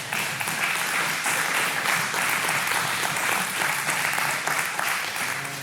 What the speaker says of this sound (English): Yeah, you can clap for that too.